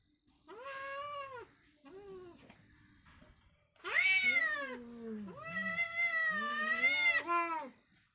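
Real cats fighting, trading loud drawn-out yowls and caterwauls in two bursts, a shorter pair early and a longer, sustained wailing exchange after a brief pause, close to the microphone.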